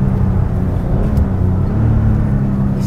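An air-cooled six-cylinder boxer engine in a Porsche 911 of the 964 generation hums with a steady, loud low drone at cruising pace, smooth and even without revving hard.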